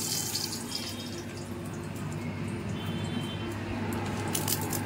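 Bay leaves and dried red chillies tempering in hot oil for a sour dal, giving a steady, close sizzle and crackle that holds at an even level throughout.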